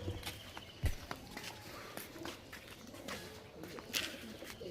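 Andhra pigeons at a loft coo faintly as they are let out, with scattered footsteps, sharp knocks and handling noises nearby.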